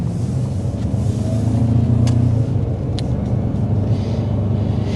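A 2025 Ford Maverick Tremor pickup pulls onto a highway, heard from inside as a steady low engine and road rumble with a slight swell partway through, and no voices.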